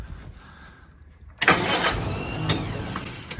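A Crosley car engine cranks and tries to start, quiet at first, then a sudden loud burst of sputtering engine noise that keeps running unevenly close to the microphone.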